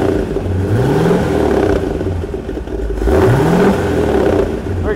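A 1971 Triumph TR6 sports car engine revs twice in quick sweeps, climbing and falling back to a rough idle, with a loose exhaust tip rattling and clattering loudly close by.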